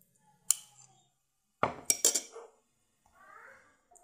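A spoon mixes coconut oil into a homemade skin remedy paste in a bowl, with a few bright clinks and a short burst of scraping, then a soft rustle. Quiet gaps fall between them and no voice is heard.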